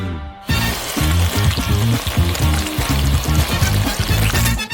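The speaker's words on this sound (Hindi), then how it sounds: "और मिक्सर के साथ सब कुछ अच्छी तरह से मिलाऊंगी।" An electric mixer beats curd cheese with chocolate in a bowl. After a brief quiet start it gives a loud, continuous motor whir whose pitch wobbles, along with scraping and churning, and no one speaks.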